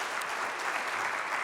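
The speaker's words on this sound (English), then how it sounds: "Give them a round of applause." An audience at a morning event gives a round of applause, a steady dense patter of many hands clapping at even loudness for the whole short stretch, with no voices over it.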